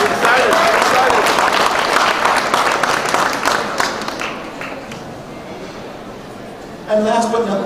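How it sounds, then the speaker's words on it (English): Graduation audience of volunteer ambassadors at Toronto City Hall bursting into dense, steady applause that gradually thins, with voices and chatter mixed in and a brief swell of sound near the end. "Give yourselves a round of applause"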